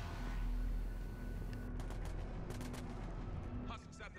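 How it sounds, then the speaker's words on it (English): Gunfire in the Mass Effect 3 video game, a dense, steady crackle of distant shots with sharper bursts in the second half, over a constant low rumble. "follow the sound of gunfire to locate the husks"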